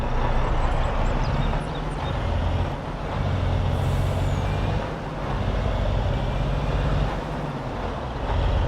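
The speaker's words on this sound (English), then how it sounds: "Let's move this truck out of the way." Farm truck hauling liquid fertilizer for spring planting in Iowa, moving with a steady low engine rumble and a few hissing air-brake releases at intervals.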